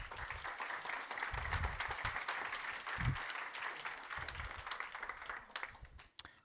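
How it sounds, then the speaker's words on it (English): Steady applause from a large audience at a high-level conference on fundamental rights fills the room, sustained clapping at moderate distance with no talking. "Give her an applause."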